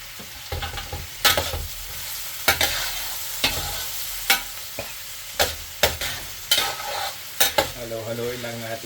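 Pork innards stirred and sizzling in a pan while cooking arroz caldo, with repeated scraping stir strokes over a steady frying hiss, close and fairly loud, and no talking.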